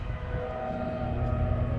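A passing train with badly squeaking brakes gives a steady, sustained metallic squeal over low rumbling, fairly close and continuous.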